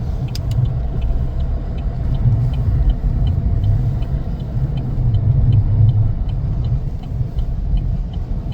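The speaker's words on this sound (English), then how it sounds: "The wind is just brutal too. It's just blowing the truck around here now also." A truck driving through a snowstorm toward a lighthouse, with a steady loud rumble of road and engine noise as strong wind buffets the cab, plus a faint regular ticking throughout and no voices.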